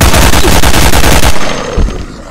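AK rifle fire in the video game Death Park 2: a loud, rapid automatic burst of evenly spaced shots for over a second, then an abrupt stop and a short trailing echo, with no voices.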